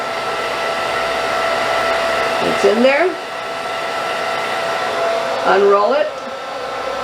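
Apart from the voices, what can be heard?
blow dryer drying hair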